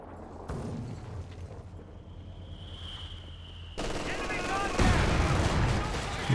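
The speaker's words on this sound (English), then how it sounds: "Big hit by the heavy mortar." A heavy mortar in Company of Heroes 2 lands a big hit, a sudden loud impact over ongoing battle noise of gunfire and rumble, with a voice talking through it.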